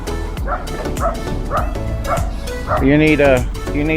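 Several street dogs near factories in Haining, China bark in short yips and whimper repeatedly, close and fairly loud, with a longer whining cry near the end.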